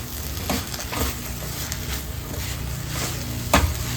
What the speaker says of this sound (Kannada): ಇವಾಗ ತೊಳೆದಿಟ್ಕೊಂಡ ಕೊತ್ತಂಬರಿ ಸೊಪ್ಪನ್ನು ಹಾಕಿ ಚೆನ್ನಾಗಿ ಫ್ರೈ ಮಾಡ್ಕೋಬೇಕು